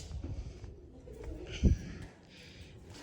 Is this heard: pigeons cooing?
yes